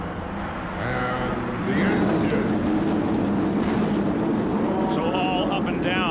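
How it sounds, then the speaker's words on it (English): Indy race car engines fire up on the main straightaway at the 1998 Indianapolis 500, a rising, revving mechanical roar building under a loud crowd and public-address din, with voices talking over it. "the 11 rows of 3 begin to start those engines"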